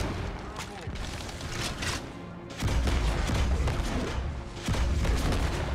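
Brute Shot grenade launcher rounds firing and exploding in Halo 2: Anniversary, a dense run of booming blasts and gunfire in a loud firefight, with a voice talking over it.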